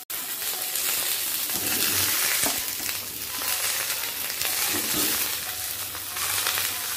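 Pumpkin and carrot pieces frying together in hot oil make a steady, close sizzle with a few soft stirring scrapes and swells throughout. No voices.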